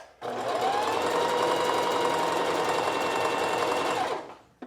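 A sewing machine runs a test zigzag stitch through a folded fabric scrap of two layers, one steady continuous burst of close, even stitching for about four seconds before stopping.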